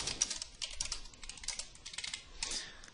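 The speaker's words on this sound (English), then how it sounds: "type that in and click Save" Quick, uneven clicking of keys on a computer keyboard, close and fairly quiet, with no voices.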